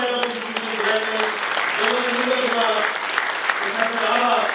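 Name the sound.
applause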